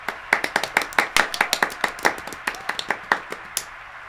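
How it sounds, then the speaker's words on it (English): An audience at a Nintendo press conference at E3 2011 claps for an orchestra, scattered hand claps in a quick uneven rhythm, fairly close and sparse rather than a full roar of applause. "let's give a big round of applause for our orchestra today"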